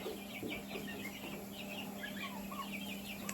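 A brooding hen with her chicks clucks softly and repeatedly in a backyard poultry yard, small chirps and clucks scattered over a faint steady hum, fairly close but quiet.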